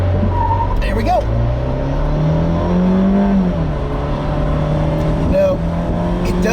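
A car launched from about 3,000 RPM in a 0-60 acceleration run, engine note rising steadily and loud throughout, with a brief tire squeal and a person talking over it.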